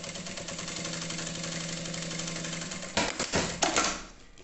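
A sewing machine stitches through a clear crystal plastic pouch in a steady, near mechanical whir for about three seconds, then stops with a few knocks and handling clatters.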